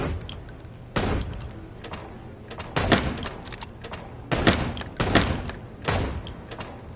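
Gunshots from the Chicken Police video game, several sharp broadband bursts at irregular intervals, some in quick clusters, standing alone over faint background noise.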